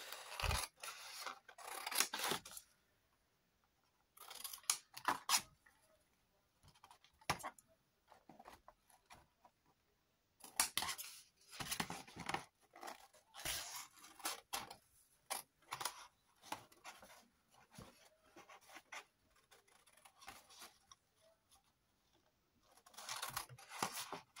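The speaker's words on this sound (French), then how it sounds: "Je coupe." Scissors cutting out a vintage paper label, bursts of close crisp snipping and rustling paper separated by short pauses, fairly quiet.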